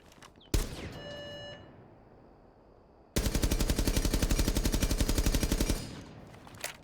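Gunfire from a weapon fitted with a muzzle brake in Rainbow Six Siege: one loud shot with a ringing tail, a quiet pause, then a sustained rapid automatic burst of evenly spaced cracks lasting about two and a half seconds.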